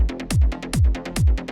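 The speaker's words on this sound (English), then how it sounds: "I've added an LF4 just to duck it when the kick's coming in and bring it back." A trance-track synth bass ducked by an LFO each time the kick lands: three deep, punchy kick thumps, with the bass dipping under each one and swelling back up in a steady pumping rhythm.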